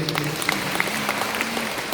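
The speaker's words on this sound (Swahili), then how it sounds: "Pigie Yesu makofi mengi" A church congregation claps for Jesus, a steady wash of applause with a few sharper individual claps and a faint voice or tone running underneath.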